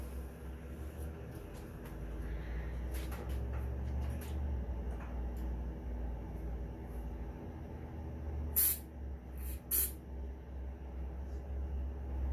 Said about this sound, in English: let's get a little starting fluid in it